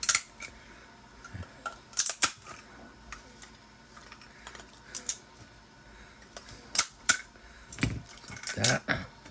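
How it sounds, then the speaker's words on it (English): A special cutting tool snips support material off a 3D printed figure, producing scattered small clicks and snaps up close, irregular and fairly quiet, with faint handling noise between cuts. "Got this special tool here to cut these supports away."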